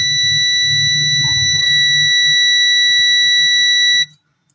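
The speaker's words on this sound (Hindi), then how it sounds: "ये आप बीप सुन पा रहे होंगे" A Honeywell BC2000 burner controller on test gives one continuous, loud, high-pitched electronic beep lasting about four seconds before cutting off, with a low hum underneath.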